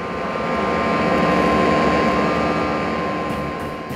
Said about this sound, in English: this is what it sounds like when it's just the time-coded vinyl.